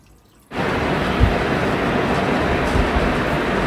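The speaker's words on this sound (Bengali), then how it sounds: "মুগ ডাল দিয়ে তো মুগ ডালটা এই যে ভিজিয়ে রেখেছিলাম আধা ঘন্টা আগে এখন ধুয়ে সিদ্ধ করে নিব ভালো করে" Soaked mung lentils being rinsed in water: a steady, fairly loud rush of running water starts abruptly after a brief quiet moment and continues unbroken to the end.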